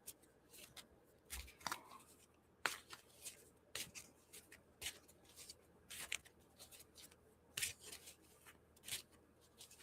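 Tarot cards are shuffled and picked by hand: irregular papery riffles, flicks and snaps in close, quiet bursts with short pauses between.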